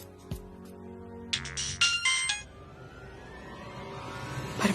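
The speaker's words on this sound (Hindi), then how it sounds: "कहीं अथर्व तो नहीं फोन कर रहा?" Phone ringing in a Hindi TV drama scene, a short burst of bright electronic ringtone tones after a few clinking notes, fairly faint over a quiet room background.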